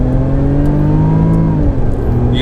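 A Range Rover Velar P380 SE's supercharged engine, set to dynamic mode, revs up loudly from inside the cabin, its rising whine and drone climbing steadily with no one speaking.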